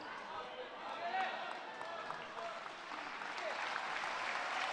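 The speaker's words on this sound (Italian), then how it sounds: "Gli applausi del Palavis, pubblico numerosissimo questa sera" A large, numerous crowd applauds in the Palavis handball arena during a Serie A1 playoff game, a sustained wash of clapping heard from a distance, with a commentator's voice running over it.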